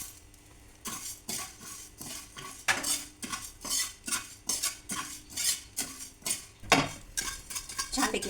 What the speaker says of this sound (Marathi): त्यानंतर आपण हे धणे भाजून घ्यायचे.